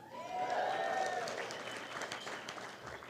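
Audience at a community luncheon for an education fund, clapping and cheering at a moderate level, with a rising whoop early on over a steady patter of hands that continues to the end.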